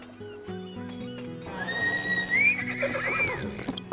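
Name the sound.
horse neighing in video game Might & Magic X: Legacy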